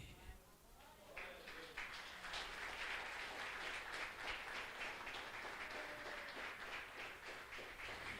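A church congregation applauds, clapping swelling after a quiet start and holding steady, fairly faint and somewhat distant, with talk or voices underneath.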